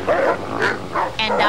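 Dogs bark in a quick run of several short, yappy barks, fairly close and loud, with a brief gap between bursts.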